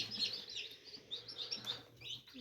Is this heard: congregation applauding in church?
no